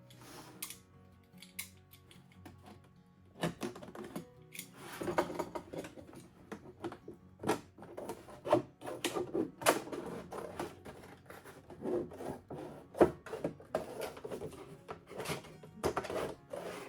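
A knife cuts around a plastic container to make a hinge near its handle, giving a series of irregular crackling snaps and scraping cuts, close up, with no voices.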